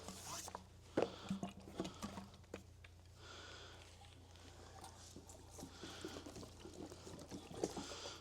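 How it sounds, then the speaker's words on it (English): Fuel pours in short bursts into the tank of an old, rusty Harley Davidson motorcycle, a faint liquid trickle and splash heard close up in a quiet space, with small handling clicks between pours. "We'll start off with just a little bit of fuel, just in case it absolutely pours out."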